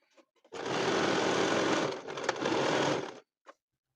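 Sewing machine stitching fabric pieces for a quilted mat, running loudly and steadily for about two and a half seconds with a brief dip midway, then stopping, followed by a faint click.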